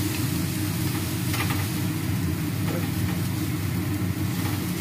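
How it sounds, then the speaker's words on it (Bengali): Chicken momo filling fries steadily in a pan, a constant close sizzle with occasional stirring and no break throughout. "সামান্য একটু নাড়িয়ে চেড়ে ভেজে নেব"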